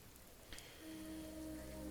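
Steady rain falling in the Viking-era video game Expeditions: Viking, a quiet continuous patter with a brief brighter splash, alone.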